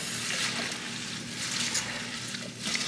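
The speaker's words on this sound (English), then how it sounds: "So right now, I am just rinsing this off." Vegetables being rinsed under running water, giving a steady close rush and splash of water with light handling noises. The sound is continuous and no one speaks.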